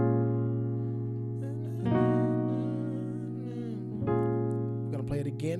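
Piano plays part of a song slowly, sustained chords ringing out with two fresh chord changes struck partway through, fairly quiet and alone.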